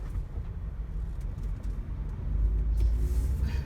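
Car being driven slowly, heard from inside as a low rumbling engine and road drone that swells louder toward the end, with no talk.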